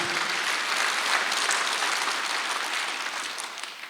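A church congregation applauds during an Easter Sunday worship service, a steady, dense wash of many hands clapping that stays even and fairly soft for several seconds before easing slightly at the end.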